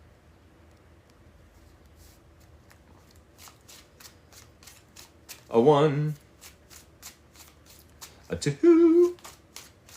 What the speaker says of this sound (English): Let's do 3 more shuffles, shall we?